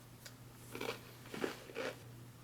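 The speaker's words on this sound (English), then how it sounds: "Let's try the crackers and peanut butter. Give the cracker a taste." Someone bites into a plain MRE cracker from an XMRE chili-with-beans ration, giving three crisp, close crunches spaced about half a second apart, with no talking.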